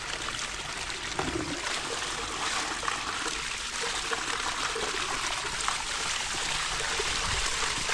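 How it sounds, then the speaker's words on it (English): Water gushes continuously from an opened drip irrigation filter under pressure, a steady broadband rushing close to the listener with no break. "That is all water coming out from the filter."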